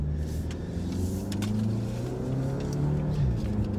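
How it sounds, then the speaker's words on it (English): A 2019 Volkswagen Arteon accelerates hard from a fast takeoff, its engine note climbing steadily from inside the cabin before easing off near the end. "That was a fast takeoff there, Nathan."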